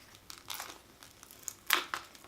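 Plastic packaging comes off a Num Noms toy during an unboxing, a few scattered crinkles and crackles, close and light, with one sharper rustle near the end.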